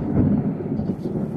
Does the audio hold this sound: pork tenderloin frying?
no